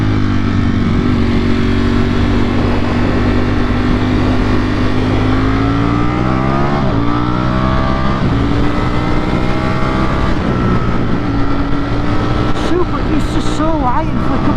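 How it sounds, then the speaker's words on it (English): A Ducati Streetfighter V4S motorcycle engine downshifting and engine braking on a ride, a loud continuous near engine drone with rising and falling pitch and blips at the shifts, recorded on board. "See how that downshifter goes. Engine braking's nice."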